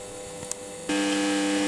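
A cooker's low mechanical hum and whir drones in the background, then suddenly grows louder and steadier partway through, with a faint click just before.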